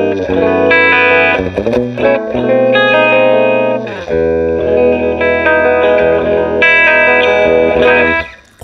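Semi-acoustic hollow-body electric guitar played with expressive, nuanced picking, ringing chords and single notes with a warm, sustained tone and light effects, loud and up close and alone for about nine seconds.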